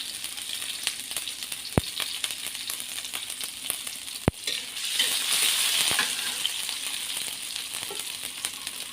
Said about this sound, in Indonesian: Ini bawang merah, kunyit, bawang putih, kecemplungin semua.